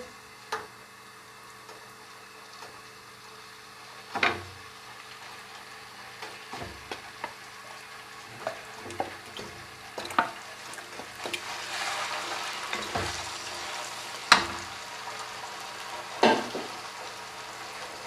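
Chicken pieces sizzle and fry in a karahi for Afghani chicken karahi, a steady moderate crackle broken by a few sharp clatters and stirring knocks of utensils against the pan, with no talking.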